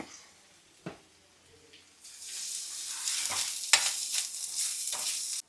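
Ginger garlic paste frying with chicken for a country chicken curry: a loud close sizzle that swells after a quiet start, broken by several scraping stirs, with no talk.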